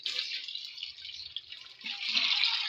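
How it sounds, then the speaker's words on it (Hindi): Soaked dal lentils are rinsed in water, with running and splashing water swishing at close range and a steady hiss that grows louder toward the end. "अच्छी तरह धोएंगे इस दाल को"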